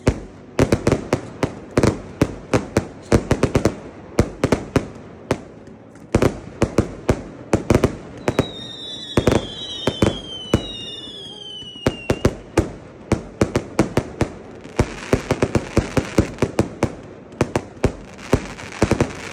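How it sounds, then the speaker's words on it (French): A fireworks display for the Chinese Spring Festival crackles with dense volleys of sharp bangs, close and loud, with a few whistling rockets rising in the middle and the barrage continuing to the end. "Je vous laisse admirer ces feux et ces jeux très incroyables."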